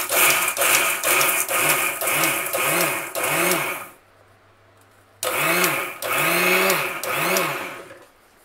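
A home kitchen mixer grinder whirs loudly while grinding spices into a coarse powder, running in pulsing bursts, pausing for about a second, then restarting with the same rhythmic grinding hum.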